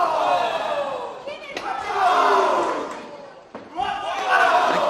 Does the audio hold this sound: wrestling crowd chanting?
yes